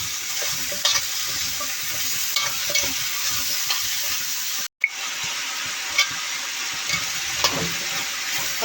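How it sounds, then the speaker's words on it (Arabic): Chopped tomatoes fry and get stirred in a pot for Egyptian lentil soup, with a continuous close sizzle and hiss broken by scraping stirs and a short sharp knock partway through, and no talking. "قلبي بقى ايه تقليبه حلوه كده"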